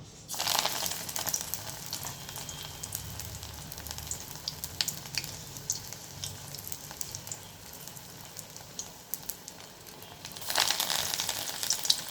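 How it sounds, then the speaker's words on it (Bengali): Thin fritters of yam leaves sizzle in hot oil, a steady crackling fry that flares louder as batter hits the oil at the start and again near the end, with soft stirring scrapes and no talking. "এবার আমি পাতলা পাতলা করে এগুলো বড়ার আকারে গড়ে তেলের মধ্যে দিয়ে দেব।"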